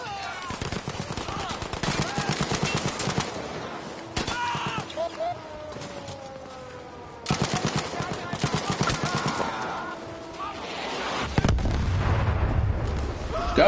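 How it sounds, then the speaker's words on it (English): Battlefield V gameplay on PS4 with bursts of machine-gun fire and scattered gunshots, loud and close, broken by short pauses and a heavy explosion-like rumble near the end. "Where are people shooting?"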